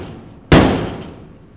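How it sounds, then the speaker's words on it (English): An 8-pound sledgehammer strikes a welded steel joint once, a single loud, sharp metallic bang whose ringing tail decays slowly into quiet. "we get to hit it with a hammer now"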